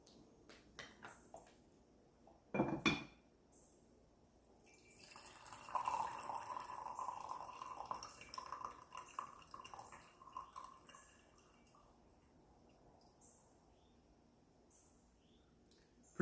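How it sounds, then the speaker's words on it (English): Tea poured from a small pot into a cup during a matcha and oolong session, a rough uneven flow heard as a short splash then a longer soft trickling stream, near and quiet, with a few clicks around it. "Pretty rough pour there."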